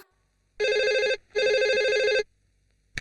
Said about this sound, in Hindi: फोन नहीं सुनाई दे रहा है क्या?